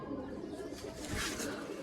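Soft pigeon cooing rises and falls against steady background noise, faint and somewhat distant.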